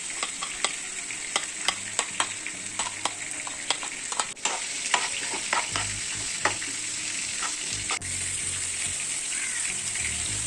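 Shallots, onion, curry leaves and bird's-eye chilies sautéing in hot oil for tilapia pollichathu: a continuous close crackling sizzle punctuated by frequent sharp stirring clicks of a spoon against the pan.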